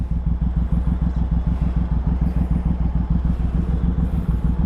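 A Suzuki Boulevard M109R cruiser with custom exhaust pipes idles nearby with a deep, loud, lumpy rhythmic burble, a fast even chain of thumping pulses, alone without voices.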